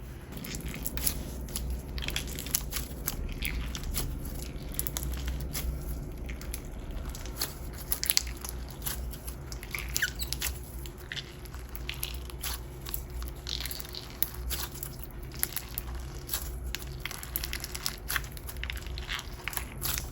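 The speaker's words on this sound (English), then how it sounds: "to get that ultimate frog spawn crunch, but I feel like we're still getting it with all the base" Crunchy frog spawn slime full of small clear beads is squeezed and kneaded close up, giving continuous dense crackling pops and squishes with no voice over them.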